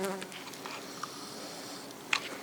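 Honeybees buzz steadily at the hive in a dense, low drone, with a few sharper passes of individual bees near the microphone.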